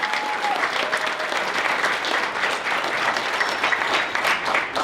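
A room at a multicultural business forum breaks into a sustained round of applause for Valerie, dense and even clapping from the crowd lasting several seconds without talk.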